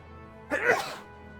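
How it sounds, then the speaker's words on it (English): A single close, sharp sneeze from a man indoors, a short burst with a quick breathy onset and a brief fading tail against a quiet background. "I have a sneeze."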